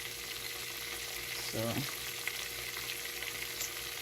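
Chicken pieces fry in curry with a quiet, steady sizzle and faint hiss, one brief stir or clatter breaking through partway, with a few words spoken.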